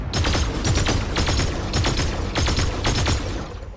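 Bursts of rapid gunfire in Fortnite, four loud, close volleys of automatic shots in quick rhythm, with no talking over them.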